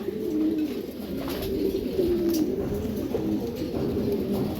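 A pair of Jiragola Giribaz pigeons coo softly and repeatedly at close range, steady low throaty calls over faint background noise.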